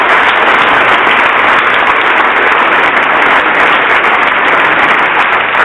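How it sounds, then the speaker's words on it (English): A crowd at a high school class reunion applauds loudly and continuously, a dense roaring wall of clapping with a dull, muffled top end and no pause throughout. "if everybody would give them a great big round of applause"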